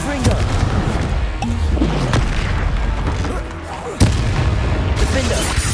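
A Confringo fire spell blasts during combat in Hogwarts Legacy on PS5, heavy booming impacts in a dense, continuous battle din with a sharp crack near the end.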